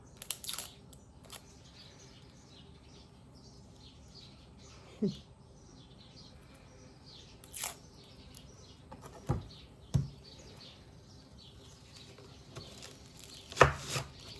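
Scattered sharp chopping knocks from a blunt knife cutting onion on a board, landing irregularly a few seconds apart against quiet kitchen room tone, with no talk.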